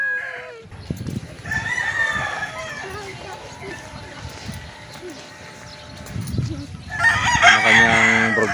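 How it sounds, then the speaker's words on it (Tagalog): Roosters crow loudly and repeatedly at a poultry farm, with hens clucking throughout and some nearby talk mixed in; a strong crow bursts out near the end. "Ang dami manok dito"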